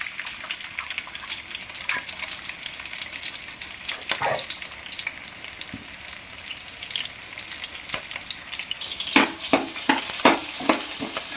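Onion and green chilli sizzling in hot oil in a pan, a steady close crackle with bursts of louder spitting and stirring clatter building toward the end.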